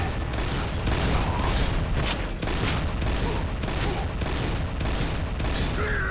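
Rapid weapon-skill blasting in Kingdom Under Fire 2, a dense continuous run of shots with a brief mechanical reload, loud and steady throughout with no talk.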